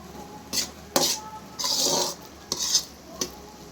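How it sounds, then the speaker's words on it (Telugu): Roasted sesame seeds being stirred into thick jaggery syrup for til laddu, heard as a few distinct scraping and clinking strokes of a spoon against a pot, close and fairly quiet, with brief pauses between them. "ఇప్పుడు ఈ బెల్లం పాకంలో మనం ముందుగా రోస్ట్ చేసి పక్కకు పెట్టుకున్న నువ్వులని వేసేసుకొని బాగా కలిపేసుకోవాలి."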